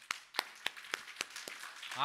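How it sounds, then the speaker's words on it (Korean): Slow, evenly spaced hand claps, about seven sharp strikes, followed by a brief swell of sound at the end, during a church sermon. "우리 하나님께 감사하는 마음으로 박수 한번 드리겠습니다"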